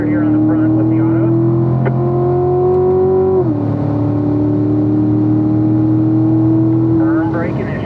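A 2018 Chevrolet C7 Stingray Corvette revs loudly as it pulls up through the gears on a race track at Spring Mountain. Its engine drone rises steadily, drops at a shift and climbs again, close and continuous under an occasional voice.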